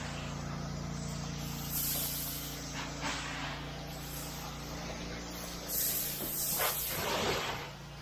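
A pressure washer blasts algae and green growth off the siding of a house, a loud continuous hissing spray with a low motor drone beneath, swelling as the jet sweeps across the surface.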